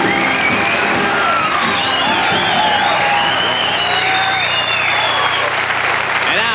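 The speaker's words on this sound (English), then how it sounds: "Would you welcome, please, with your applause, the Tonight Show All-Star Band." A Tonight Show studio audience applauds the All-Star Band with loud, continuous clapping and some cheering and whoops, steady and full for several seconds, with faint tones running beneath.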